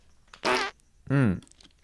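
Two loud, close fart noises, each lasting about a quarter second, with a short gap between them and quiet around them.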